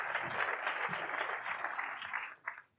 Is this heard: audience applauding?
yes